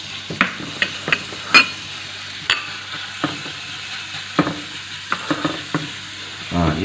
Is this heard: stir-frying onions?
yes